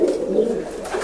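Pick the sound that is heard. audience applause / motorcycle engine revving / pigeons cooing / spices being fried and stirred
pigeons cooing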